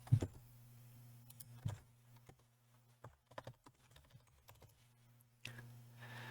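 Code is typed on a computer keyboard in quick, faint clicks and taps that come in irregular clusters, with a low steady hum underneath.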